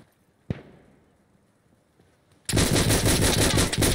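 Gunfire in the video game Insurgency: Sandstorm: a single sharp shot rings out and decays, then after a pause a loud, rapid automatic burst keeps firing to the end.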